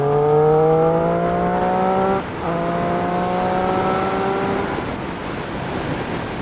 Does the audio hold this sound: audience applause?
no